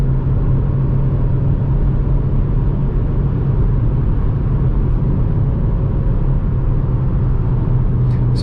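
Inside a 2020 Mazda CX-30 with a 180 hp SkyActiv X engine at highway speed at night, loud steady road and wind roar with a deep constant rumble and no talking.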